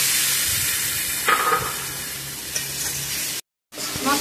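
Chopped tomato fries in a spice masala, a dense close sizzle broken by a few stirring scrapes, then a brief silent gap before the hiss resumes.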